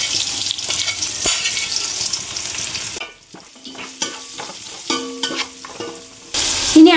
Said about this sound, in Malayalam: അതിലേക്ക് വലിയ ഉള്ളി വഴറ്റിയെടുക്കുക